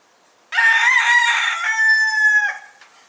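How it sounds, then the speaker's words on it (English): A single rooster crows once, loud and clear, a long drawn-out call in an otherwise quiet setting. "The rooster woke us up again at 4:30 this morning"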